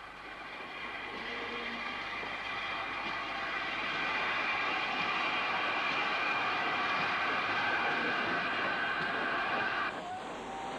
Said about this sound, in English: 4916 is then driven back by Jimmy Watkins onto a pit